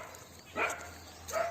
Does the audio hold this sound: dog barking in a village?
yes